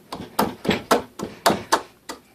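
Chisel striking and cutting into wood while paring a bridle joint, about eight sharp, close knocks in an uneven rhythm, each with a short woody decay, and no speech.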